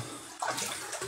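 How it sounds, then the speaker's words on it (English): Water runs briefly from a tap as hands are rinsed, a short close, steady hiss with a small splashy surge partway through. "Just rinse my hands, in case any of it got into my hands."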